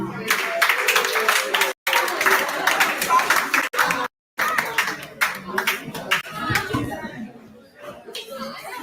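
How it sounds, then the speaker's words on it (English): A classroom audience claps for a student, a burst of close applause mixed with chatter and some laughter, broken by a couple of brief dropouts, with people talking throughout. "Clap for him."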